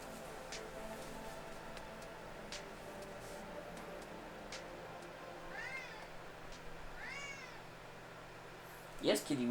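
A cat meows a couple of times, fairly faint and somewhat distant, over a quiet background hum, followed by a short louder clatter at the end.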